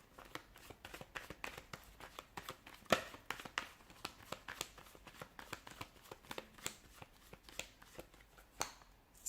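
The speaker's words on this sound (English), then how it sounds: "let's go ahead, give the cards a shuffle and begin" Tarot cards being shuffled by hand, close and quiet, with a long series of quick riffling snaps and soft papery flutters in an uneven rhythm.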